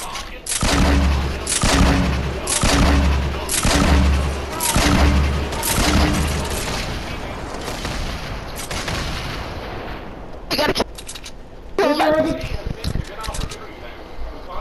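Rapid bursts of gunfire in a first-person shooter match ring out in a steady rhythm for several seconds, then thin to scattered shots and thuds as voices talk over the action.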